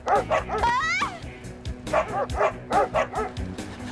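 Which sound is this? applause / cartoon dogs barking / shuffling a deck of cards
cartoon dogs barking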